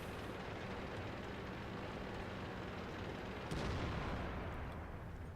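A heavy tank cannon firing in World of Tanks, with the FV4202 engaging an IS-7: a loud, rumbling boom around mid-clip rising out of dense, steady low-frequency battle noise and engine drone.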